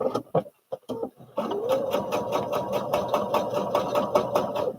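A domestic sewing machine stitches back and forth along a fabric seam for a baby fall-protection cushion, with a few short bursts at first, then a steady close, rhythmic whirring run.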